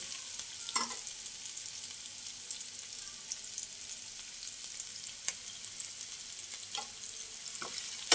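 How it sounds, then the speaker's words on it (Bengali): Sliced onion rings frying lightly in a pan for egg chowmein, a soft steady sizzle with occasional faint crackles and stirring clicks, quiet and continuous with no voices. "হালকা পেঁয়াজ হালকা ভাজা হবে।"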